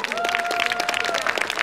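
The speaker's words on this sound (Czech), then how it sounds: "potlesk pro Nedvědovi" Audience applause for the Nedvěd family after a children's musical performance, steady dense clapping throughout with a sustained tone running beneath it.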